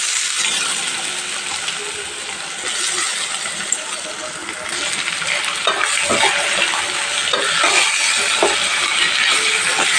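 Chopped mango sautés in a hot pan for mango rice, giving a steady sizzling hiss with occasional stirring scrapes and clinks, while a person talks over the cooking.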